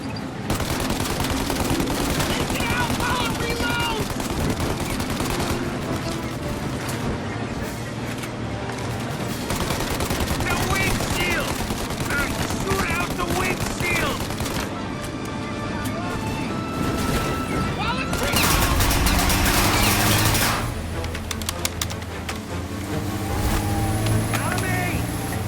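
Gunfire rattles through an intense firefight in Mafia Definitive Edition, with dense bursts amid engine and vehicle noise, shouting voices over the top and a loud blast near the end.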